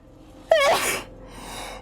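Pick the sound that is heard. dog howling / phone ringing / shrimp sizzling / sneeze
sneeze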